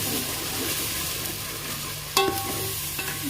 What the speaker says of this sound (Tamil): இங்கே வெங்காயம் இஞ்சி பூண்டு ஒரு தக்காளி எல்லாத்தையும் நல்லா வணங்கட்டும் நல்லா வணக்கி விடுங்க